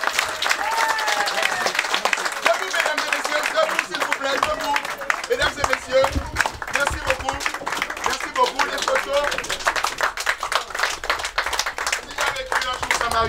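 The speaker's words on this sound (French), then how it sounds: "lui faire une standing ovation" An audience rises for a standing ovation at a community ceremony: dense, sustained clapping fills the hall without a break, while a voice speaks over the applause.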